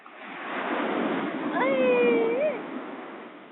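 Sea waves wash in with a broad rushing hiss that swells and fades, while a voice speaks briefly over the surf.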